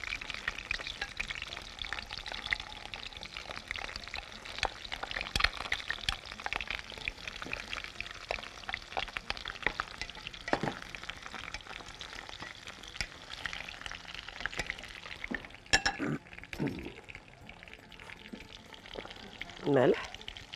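Onion dropped into a hot pan for Moroccan almond-stuffed chicken, frying with a steady crackling sizzle under someone talking, with clinks of utensils and stirring.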